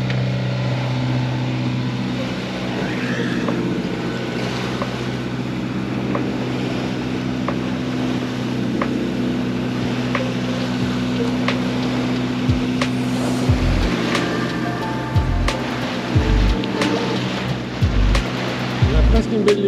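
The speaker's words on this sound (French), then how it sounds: "Donc le moteur s'impose. Donc ça fait du bruit, ça pue." A sailboat's engine drones steadily at sea off Ireland in rain, a continuous low hum with water and wind noise throughout, growing a little rougher and more uneven near the end.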